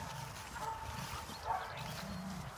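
A Doberman yips and growls faintly, at some distance, during protection training in a quiet outdoor space.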